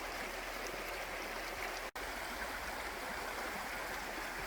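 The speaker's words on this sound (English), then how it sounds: "We are now on the other side of the brook." A woodland brook flows in snowy winter woods, a steady, faint, even rush of running water with no voices and one momentary dropout partway through.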